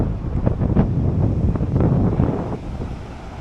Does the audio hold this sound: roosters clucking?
no